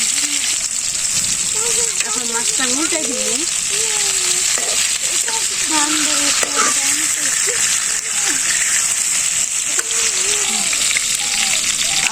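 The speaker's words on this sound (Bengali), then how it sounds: "আমার মাছ ভাজা হয়ে গেছে এখন নামাইতেছি" Fish fries in mustard oil in a Bangladeshi village kitchen, giving a loud, unbroken sizzle and bubbling that runs the whole time beneath a person talking.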